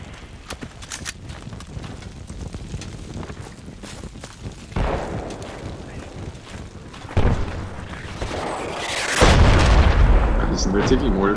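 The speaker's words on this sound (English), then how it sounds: "We're taking mortar fire down at A battery" Mortar rounds land in the Project Reality military shooter, sounding as several heavy booms at mid-distance that swell over continuous battle noise. Voices talk and shout throughout.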